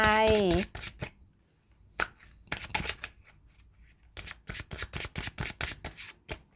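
Tarot cards are shuffled and drawn by hand, giving bursts of quick riffling flicks and soft slaps. The sound is close and fairly quiet, and someone speaks briefly at the start.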